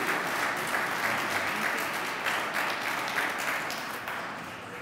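An audience gives warm applause to Senator Dale McCormick at an event about a ranked choice voting referendum, a dense, sustained clapping that continues evenly and then begins to fade.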